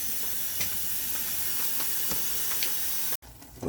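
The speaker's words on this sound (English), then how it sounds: "I have my saltfish and my vegetables steaming down nicely with the codfish on top" Saltfish and vegetables with codfish on top steam in a pot, a continuous broad hiss with faint bubbling ticks underneath that cuts off abruptly near the end, followed by quieter rustling.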